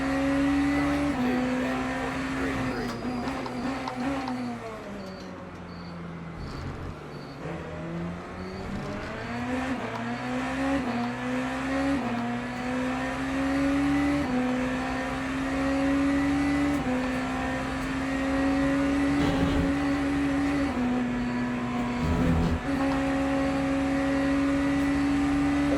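A Le Mans Ultimate race car, GT3 or hypercar, revs hard and climbs through the gears with steady rising and falling engine pitch. It drones loud and continuous for the whole stretch with no talking.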